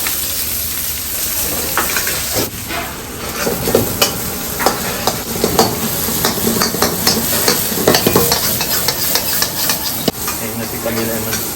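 White onion sizzling loudly in hot frying oil while being stirred, a steady close hiss broken by scraping and clattering stirs in a family kitchen, with some background noise and voices.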